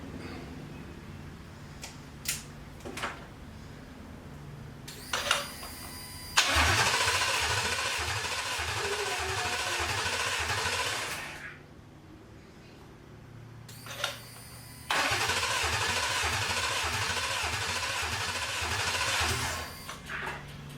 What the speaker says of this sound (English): Sounds like the ignition is happening.